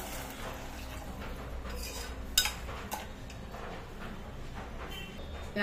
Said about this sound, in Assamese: কুকাৰৰ ঢাকনখন বন্ধ কৰি দিছোঁ